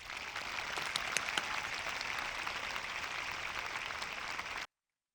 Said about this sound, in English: Let's give both of our award winners another round of applause